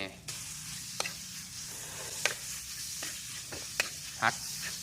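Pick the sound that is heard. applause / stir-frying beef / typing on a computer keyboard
stir-frying beef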